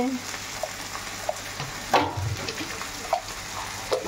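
Chicken curry frying in a pan as cumin powder goes in, a steady sizzle with a few soft clinks and stirring bumps, fairly close and unbroken by talk.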